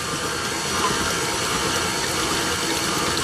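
Hot water poured slowly into chocolate cupcake batter in a one-bowl mix, a steady broadband liquid rush that stays even and fairly loud throughout, with no voices.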